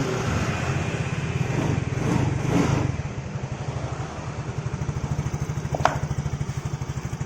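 A motorcycle engine runs steadily close by after starting, with a rapid, regular low putter that swells slightly for a moment and then settles into an even idle.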